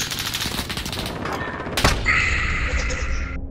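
Video game gunfire: a rapid run of shots, then a single sharp sniper crack, followed by a ringing, whining tail.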